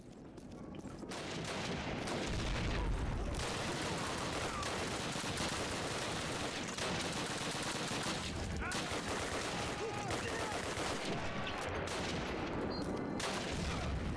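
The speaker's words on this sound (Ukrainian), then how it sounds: "граната прилетіла" A grenade goes off amid heavy gunfire in the Stalingrad sewers of Call of Duty, a dull boom inside a constant roar of shots and bursts, with a player's voice over it.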